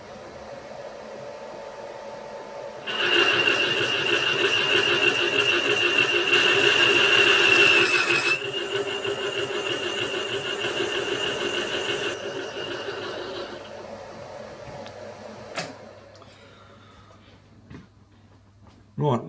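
A Victor lathe takes a final cut down to 38 millimeters, its whining drone rising sharply, holding steady for several seconds, then winding down and stopping with a few closing clicks.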